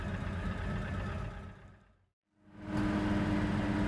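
1967 Chevrolet Chevelle SS engine on a test drive, a faint low rumbling drone that fades out briefly and returns a little louder and steadier.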